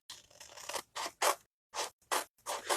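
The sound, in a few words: cutting paper tags apart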